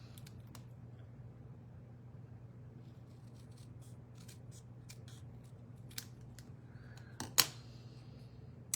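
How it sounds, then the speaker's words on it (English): Scissors trimming a card at a crafting table, a few faint, crisp snips scattered over a low steady hum, with one sharper cut near the end. "I want to grab some scissors. And I want to trim this down just a bit."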